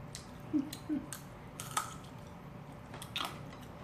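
Someone eats an eel rice bowl with young-radish buckwheat noodles, and the eel is tough and hard to bite through. A few soft, close bites and chews come in short bursts over a quiet background.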